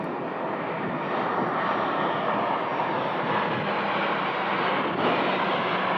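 An American Airlines jet airliner taxiing at Phoenix Sky Harbor Airport gives off a steady, loud broadband engine roar and whine that holds constant throughout with no gaps.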